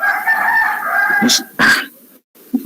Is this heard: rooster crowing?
yes